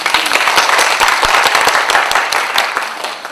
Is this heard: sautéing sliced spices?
no